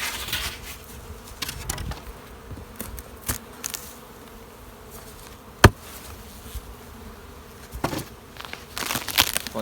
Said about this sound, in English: Plenty of bees up top.